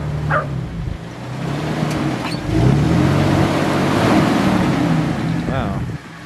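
A Jeep crawling a rocky off-road trail in Uwharrie National Park, engine rumbling and revving up loudly midway, with people talking and a dog barking nearby.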